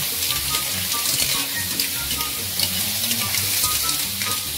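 Ginger sautéing in a pan for clam tinola gives a steady, close crackling sizzle with light stirring throughout, with no voices.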